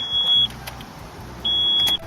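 A Nissan Sentra's door warning buzzer: a high electronic tone sounds twice, each lasting about half a second, over a quiet idling car interior.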